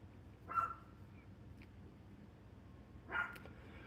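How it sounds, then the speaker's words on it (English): Dogs bark at a distance outdoors, two separate faint barks a few seconds apart over a steady low background rumble, with no talking. "Hear my dogs?"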